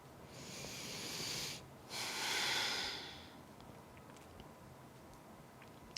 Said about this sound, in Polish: Wdech i wydech.